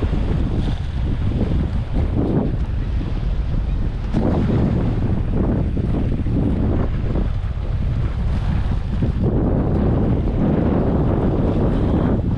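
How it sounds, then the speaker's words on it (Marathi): Strong wind buffets the microphone on the seashore during cast-net fishing from a boat, a steady, loud roaring rumble with gusty surges that continues throughout, with no speech. "आज वारा भरपूर आहे, त्याच्यामुळे आपल्याला पाग फेकण्यासाठी खूप त्रास होत आहे"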